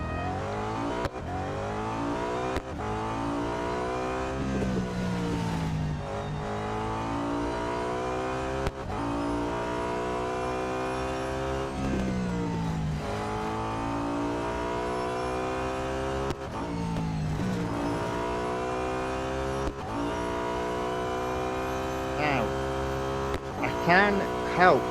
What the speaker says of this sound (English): let's see how the car does with an autocross when it needs servicing